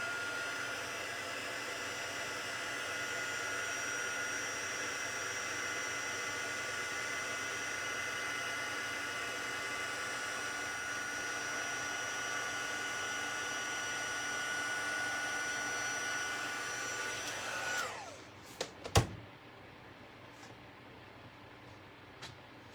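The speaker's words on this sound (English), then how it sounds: "Grab my heat tool." A heat tool for stamping crafts blows a steady, loud, even whoosh for about eighteen seconds, then cuts off with a few clicks and handling knocks before fading to quiet room tone.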